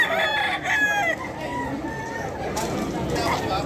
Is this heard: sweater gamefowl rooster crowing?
yes